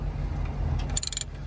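Hand ratchet loosening a 10 mm bolt on an alternator wiring bracket of a Toyota Camry, heard as a quick run of about six crisp ratcheting clicks over a low background hum.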